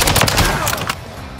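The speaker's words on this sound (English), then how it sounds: "With a blistering high fire rate, the MTZ-556 is sure to see you through any battle" Rapid automatic fire from the MTZ-556 rifle in Call of Duty MW3, a loud, dense, close burst of shots that cuts off and leaves a brief fading tail.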